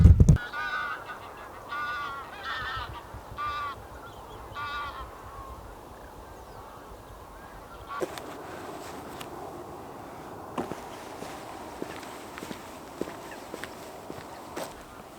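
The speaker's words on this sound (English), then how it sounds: "You might be able to hear some of the geese in the background." Geese honk in a series of calls through the first few seconds, faint and distant, in the outdoor hush before sunrise as a flock passes overhead; later the calls fade and only light rustling and soft movement sounds remain.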